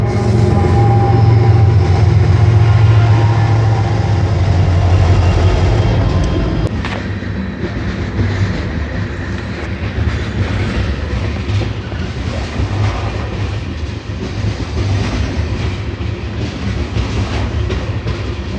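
Freight train rolling along the rails, heard from aboard while riding: loud, steady rumble and roar with a deep drone that eases after a few seconds into continuous clattering wheel noise and faint squeals.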